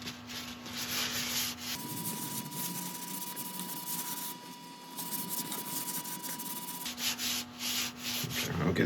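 Finish is rubbed into a woodturned piece, heard as a steady, close scrubbing friction that swells and shifts over a background hum, with no talk.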